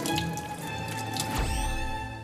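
A cloth bag of spices being washed under running water in a kitchen sink, with a steady faint trickle, drips and a squishy splash partway through, close by and with no talk.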